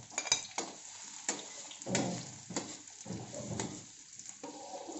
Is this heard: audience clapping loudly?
no